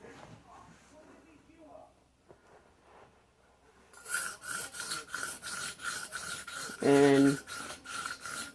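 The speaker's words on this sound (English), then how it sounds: "sharpening on stone really gives you a good edge" A knife is stroked back and forth across a whetstone in a quick run of rhythmic rasping scrapes. The scrapes start after a quieter stretch with soft speech, and a short tonal buzz cuts in briefly near the end.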